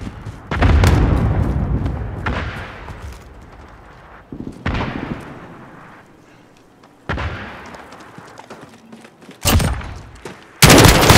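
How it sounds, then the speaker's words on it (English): Cluster strike explosions in Call of Duty: Modern Warfare in the Azhir Cave boom in several loud, heavy bursts, each one crashing in sharply and rumbling away before the next hits. "Got a cluster strike. Zero, copy. Cluster strike away."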